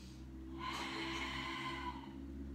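A slow, controlled breath pushed out during an abdominal exercise, a breathy exhale of about two seconds that stands alone over a steady low hum.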